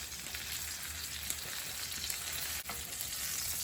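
Chicken browns in a pan with a steady, close, hissing sizzle that holds evenly throughout, with no voices.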